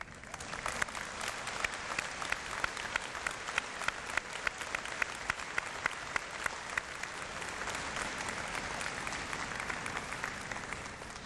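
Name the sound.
applause at a graduation ceremony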